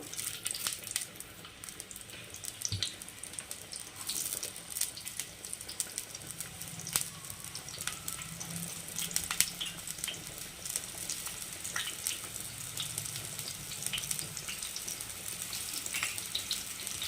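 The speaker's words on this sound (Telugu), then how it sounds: "ఇప్పుడు ఉల్లిపాయలు వేసుకుందాం, పెద్దుల్లిపాయలు." Sliced big onions hit hot oil for an Andhra-style fish tamarind curry, giving a steady broadband sizzle and crackle that holds through the whole stretch with no talk over it.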